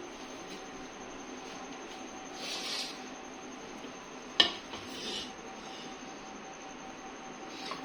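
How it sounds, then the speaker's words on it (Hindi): Vegetable chicken pulao with colourful rice is scooped from a pot with a metal spoon, giving soft scraping and clinks and one sharp clank partway through, over a quiet room hum. "इसको मैं अब डिश आउट कर लूंगी।"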